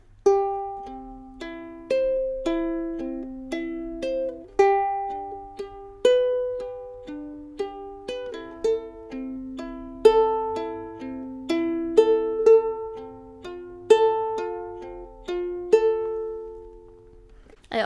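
Ukulele fingerpicking pattern played over chords, a steady rhythmic cycle of plucked notes with the bottom string plucked a bit harder, close and clear with no talking.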